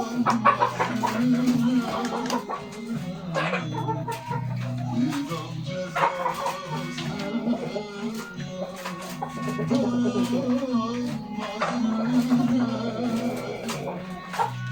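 Bresse Gauloise, Australorp and Rhode Island Red chickens clucking continuously close by, with a rooster's voice mixed into the flock's steady chatter; no talking.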